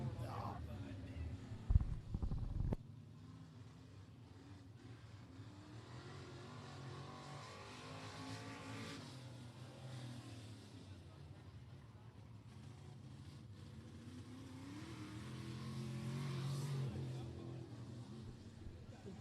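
Hobby stock race cars run laps on a dirt track, their engines a steady broad roar with a loud burst near the start, heard under a commentator talking throughout.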